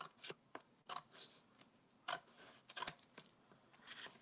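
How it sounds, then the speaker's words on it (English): Scissors cut through material for a cute bug craft project, making quiet, crisp snips scattered irregularly and a few in quick succession, close and alone. "I'm just going to cut this with my scissors."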